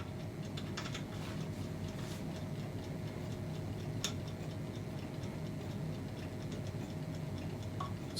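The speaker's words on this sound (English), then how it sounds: "It's a loud ticker, I know that." Loud, steady mechanical ticking of a small clock, evenly paced throughout with a faint background hum and no speech.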